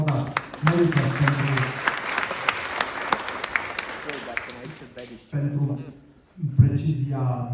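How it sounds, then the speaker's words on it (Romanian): A conference audience in Romania breaks into sustained applause for a speaker, the clapping loud and dense for about five seconds before thinning out, with voices talking over the end. "Dar puteți să-l aplaudați."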